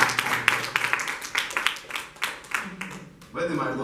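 Scattered, uneven clapping from a church congregation applauding the Lord during a sermon, individual claps distinct rather than a dense wash, tapering off before a voice resumes at the end.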